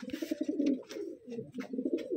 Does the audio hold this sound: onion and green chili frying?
no